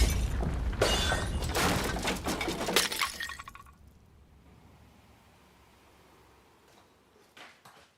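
Glass shatters and crashes loudly amid falling masonry and rubble for about three seconds, then settles into a quiet tail of scattered tinkling fragments and a faint late clatter.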